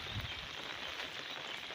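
Rain falls outdoors on a rainy day, a faint, steady hiss of drops with no distinct individual hits over the short stretch.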